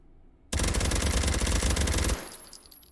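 A suppressed Beretta CX4/MX4 carbine firing in the H3VR virtual reality game: one loud, unbroken rapid-fire automatic burst lasting under two seconds, then a short fading tail.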